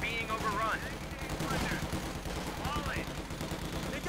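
Gunfire and mortar fire in the video game Company of Heroes 2, a dense steady rattle of rapid shots with whistling shells and blasts, constant and loud beneath a commentator's voice.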